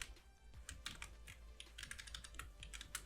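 Rapid keystrokes on a computer keyboard as code is entered in a Flutter app project, a steady run of close, fairly quiet clicks with uneven spacing and no talking.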